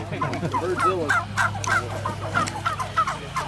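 Several turkeys cluck and gobble in short, repeated calls, fairly close, with a steady low hum underneath.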